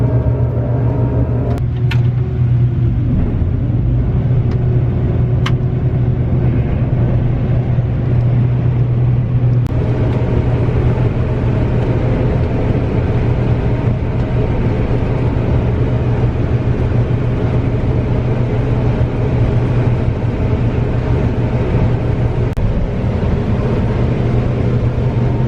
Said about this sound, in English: I'm gonna run the combine and fill that semi-truck